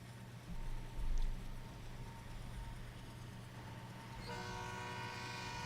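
Oil train rolling north in the Trainz 2019 railway simulator, a steady low engine drone with a sustained multi-tone horn sounding near the end.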